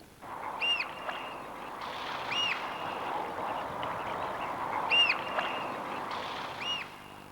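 A flying wader gives a loud, penetrating call, several sharp ringing notes repeated at intervals over a soft outdoor hiss, fairly clear and without voices.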